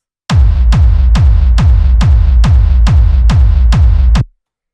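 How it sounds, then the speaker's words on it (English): Punchy electronic kick drum hitting nine times at an even, fast tempo, each thump deep with a sharp click on top, loud and isolated. "First thing we have going on up here is the full kick"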